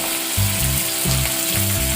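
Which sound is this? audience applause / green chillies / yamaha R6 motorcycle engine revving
green chillies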